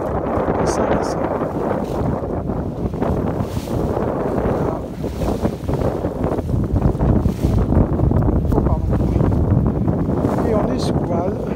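A sailboat under sail with the engine off, off Bequia near Saint-Vincent, with steady wind rumble and water wash against the hull throughout, and a person speaking over it.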